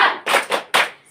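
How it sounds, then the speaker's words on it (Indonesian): Students in a classroom perform a rhythmic spirit clap: three or four sharp, loud claps in an uneven beat, each a crisp close burst with short gaps between. "Tepuk semangat."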